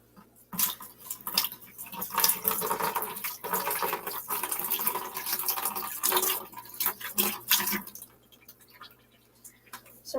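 Aquarium water is poured from a cup, giving a steady splashing and trickling stream for about eight seconds with light clinks of plastic and dishware, then tapering into a few faint drips.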